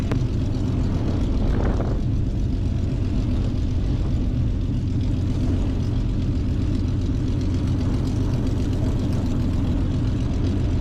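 A Spitfire's piston engine drones in flight, heard from inside the cockpit as a loud, steady, unbroken roar with a deep throb.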